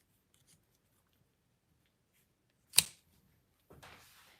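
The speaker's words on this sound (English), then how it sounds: "Let me grab my scissors here" Scissors snip once through linen thread during a craft session, a single crisp cut followed a moment later by a softer rustle, close and otherwise quiet.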